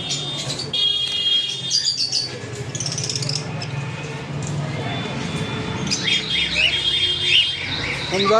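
Pet sun conures and albino lovebirds at a bird sale chirp and tweet in high, bright bursts, some close and loud, amid a busy background with people talking.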